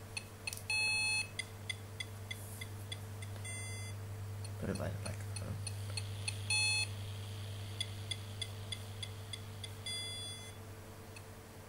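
A small in-ear device gives out four short bursts of bright electronic beeping, spaced a few seconds apart, faint over a steady low hum, while a person speaks briefly in between.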